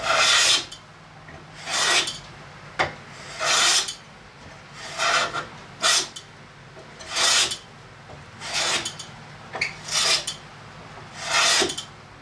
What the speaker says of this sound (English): I'm gonna use a hand plane, and I'm just gonna clean the top of it off, get all that excess glue out of there